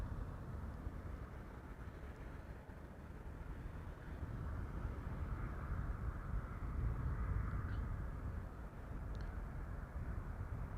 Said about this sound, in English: Airplane passing by overhead.